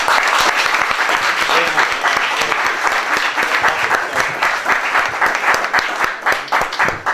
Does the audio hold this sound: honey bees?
no